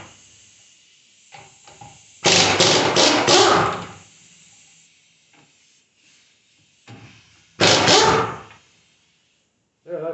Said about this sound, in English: Impact wrenches are great.